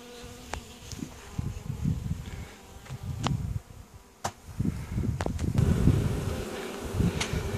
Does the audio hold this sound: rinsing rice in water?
no